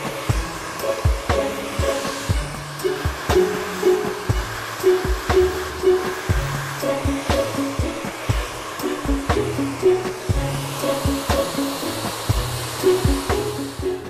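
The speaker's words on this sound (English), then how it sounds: "And so as I blow dry in that motion, that's what's going to set it and keep the hair in place." A hair dryer blows close by while hair is styled for a zigzag part, its loud whirring airflow rising and dipping in a steady repeating rhythm as it sweeps back and forth, with no one speaking.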